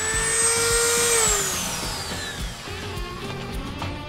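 High-speed rotary cutter biting into material, a high whine that drops in pitch as it loads up, then continues with a lower, rougher grinding tone, close and fairly loud.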